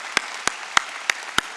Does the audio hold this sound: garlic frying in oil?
no